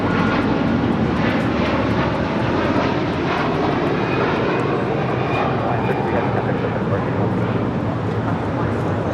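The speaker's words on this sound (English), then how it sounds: "This is Hawaiian Airlines Flight 33 taking off to Kahului on an A330-200." A Hawaiian Airlines Airbus A330-200 jet takes off from LAX as a loud, steady engine roar that fills the whole stretch, with voices faint beneath it.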